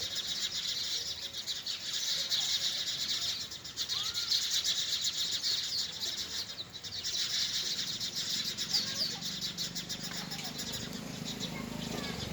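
Sparrows chirp in a steady, busy chorus around village trees, the twittering continuous and fairly close, with soft wing flutters as the birds fly in to perch amid light ambient noise.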